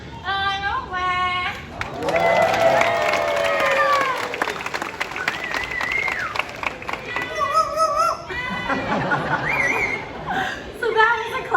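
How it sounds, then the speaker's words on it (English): Talking parrots in a Disney Animal Kingdom bird show sing, then chatter and cheer each other on with whoops and chortling calls, heard up close alongside crowd laughter and applause. "did you hear them cheering each other on afterwards?"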